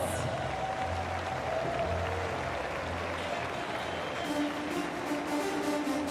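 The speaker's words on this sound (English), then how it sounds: "let's give a warm round of applause." Steady applause from a large crowd fills an ice hockey arena at the IIHF World Championship, a continuous wash of clapping at moderate volume.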